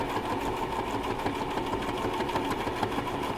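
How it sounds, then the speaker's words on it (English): A sewing machine stitching straight down a length of fabric, a steady fast mechanical whir with rapid needle clatter, close and continuous throughout with no talking. "We're going to sew normally all the way down"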